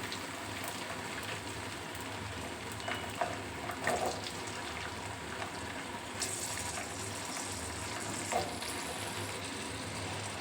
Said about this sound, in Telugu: పచ్చిమిర్చిని ఆనియన్స్ని కూడా పోపులో వేసేసుకోవాలి